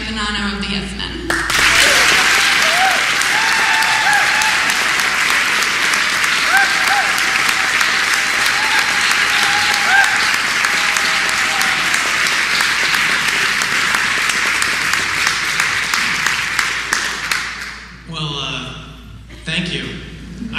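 Audience applause at a talk introducing a speaker from the Yes Men, a dense, loud sustained wave of clapping that fills the room for about sixteen seconds before fading, with a voice starting to speak as it ends.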